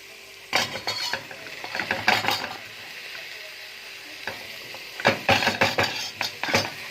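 Sausage and hot chili pepper fry with softened onions in a pan. A steady sizzle sits beneath repeated bursts of clattering as a utensil stirs and scrapes against the pan.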